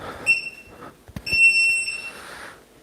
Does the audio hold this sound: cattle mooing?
no